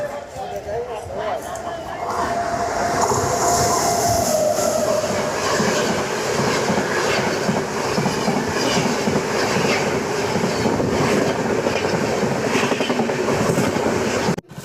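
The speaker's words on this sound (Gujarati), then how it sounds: "રેલગાડી આવી રહી છે જુઓ તમે" A train rumbles closer and grows loud, wheels clattering and squealing on the rails in a long continuous roar, with voices heard at times.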